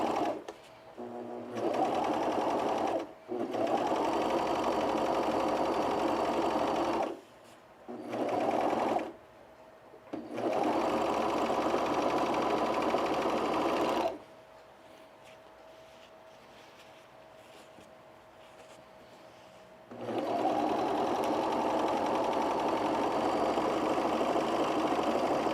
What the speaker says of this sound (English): then you just use your zigzag stitch, and that's it